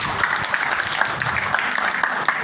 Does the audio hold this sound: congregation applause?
yes